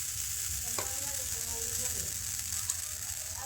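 Rice and palm-fruit batter poured double onto a hot griddle gives a quiet, steady sizzle with a brief clink and soft scraping, close by and without talk.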